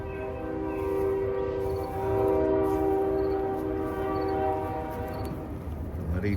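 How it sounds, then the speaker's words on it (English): A train rolls past close by with a sustained, loud horn blast, the tones swelling and fading over several seconds amid rumbling wheels, heard outdoors by a garden. "Bloody train."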